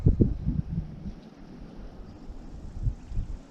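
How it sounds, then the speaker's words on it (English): Gusty wind buffeting the microphone at an outdoor rifle range, with low rumbling bursts that rise and fall, strongest at the start. "it's quite windy out here"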